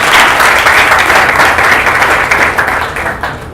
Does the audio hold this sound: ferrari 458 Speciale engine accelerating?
no